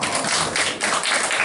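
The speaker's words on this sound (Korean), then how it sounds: "박수하겠습니다" A congregation claps during a Korean church sermon, a dense, steady patter of many hands applauding together throughout, loud and close.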